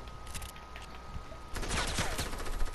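Video game gunfire breaks out midway as a dense burst of rapid shots, close and loud, following a quieter stretch with a steady tone and scattered clicks.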